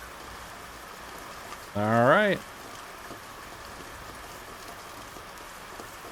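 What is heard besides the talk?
rain in the video game Night Maniac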